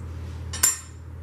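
Butter is spooned into an Instant Pot pressure cooker, heard as a single quick metallic clink of the spoon against the pot over a low steady hum.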